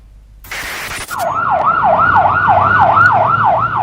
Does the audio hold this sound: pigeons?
no